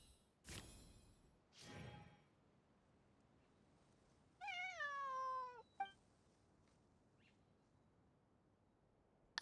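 A single drawn-out cat meow, close and clear, from Genshin Impact, following two short soft whooshing bursts in otherwise quiet surroundings, with no speech.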